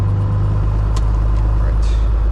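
Cessna 182S piston engine idling on the ground during a magneto check, a loud steady low drone with a strong hum throughout, close and unbroken.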